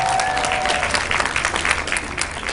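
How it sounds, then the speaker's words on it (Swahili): Audience applause at a training seminar in Dar es Salaam, a steady burst of clapping from a crowd lasting the whole stretch, loud and continuous with a few faint voices mixed in. "Makofi tafadhali."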